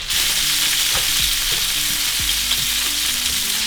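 Tomatoes and onion frying in hot olive oil, a steady bright sizzle with a few soft knocks and scrapes of a utensil in the pan, close and loud throughout.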